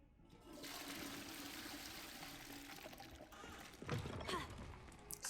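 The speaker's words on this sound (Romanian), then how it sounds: "mă bucur cum mă lasă să trag apa" A toilet flushes inside the boys' bathroom of Hogwarts in Hogwarts Legacy, a loud rushing, pouring surge of water that runs steadily for several seconds before gurgling and trickling toward the end, heard alone without talk.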